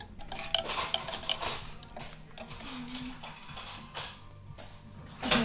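A spoon stirs a Bailey's cappuccino in a cup, giving light clinks and scraping taps that come in uneven bursts, close by and fairly quiet.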